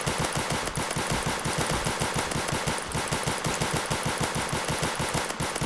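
Rapid, steady automatic gunfire cutting down zombies in a Roblox game, a continuous rattling stream of evenly spaced shots held close and loud throughout without speech.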